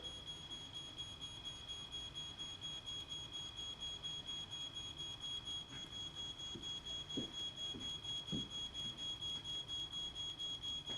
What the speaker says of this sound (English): The smoke alarm on the 2nd floor now activates.